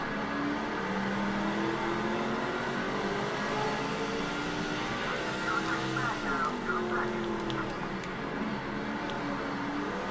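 Racing trucks roar around Martinsville in the NASCAR 06 Craftsman Truck Series game, a dense, continuous engine drone with rising and falling pitch as the pack runs through the turns.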